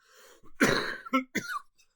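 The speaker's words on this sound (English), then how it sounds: "So, excuse me for the coughing." A few harsh coughs close to the microphone, one strong burst followed by two shorter ones, with silence around them.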